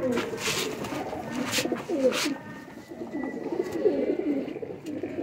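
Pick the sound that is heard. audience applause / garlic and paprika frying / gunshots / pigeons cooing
pigeons cooing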